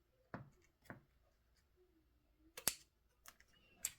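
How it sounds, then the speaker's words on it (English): Scissors cutting straight across material for a vintage Christmas card folio, a few sharp snips spaced apart, close and fairly quiet with no talk. "I'm going to cut this straight across here"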